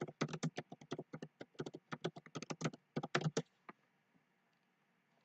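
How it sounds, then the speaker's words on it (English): Quick bursts of typing on a computer keyboard, close and clear, with uneven clusters of key taps that stop near the end, leaving near silence. "Type it in, boom."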